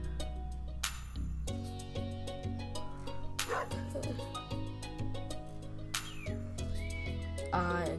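A pet dog on the farm in Stardew Valley gives a few short yips and barks, mixed in with bright, steady in-game music that plays throughout.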